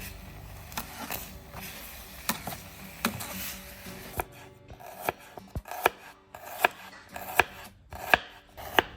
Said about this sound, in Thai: เครื่องทุกอย่างต้องซอยครับผม ซอยใส่พร้อม หอมแดงกระเทียม